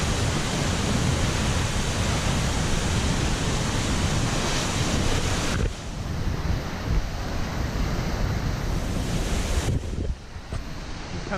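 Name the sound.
waterfall in the Columbia River Gorge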